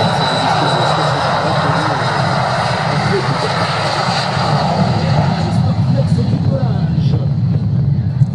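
An L-39 jet aircraft flying at an air show in Cholet, heard as a loud, steady engine roar with a broad rush of noise throughout.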